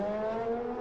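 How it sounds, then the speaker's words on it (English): A race car at Le Mans in 1999 pulls out of the pits, giving a brief, loud, steady engine whine at sustained pitch, heard close and alone for under a second. "There's not much room, as you can see, when you're pulling out of the pits, and he locks up there"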